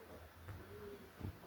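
A pigeon at a loft gives soft, low coos, one near the middle and a fuller burst near the end, faint against a quiet background hum.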